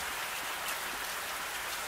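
Heavy rain pours down around a small chicken coop, a loud, dense, unbroken hiss of drops hitting surfaces, steady from start to finish with no voices.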